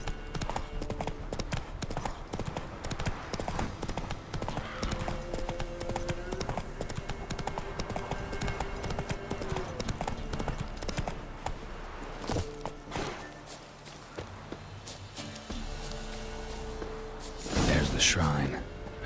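Hooves of Roach, a horse galloping in the video game The Witcher 3, drum in a fast continuous clip-clop with game music and ambience, a voice talking over it and a louder burst near the end.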